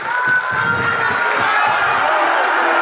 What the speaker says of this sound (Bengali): সবাই একবার উঠে দাঁড়িয়ে হাততালি দেবেন